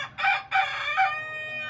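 A Blue Australorp rooster crows close by, loud and harmonic, in a short, broken call with a sustained tail, over faint low background noise.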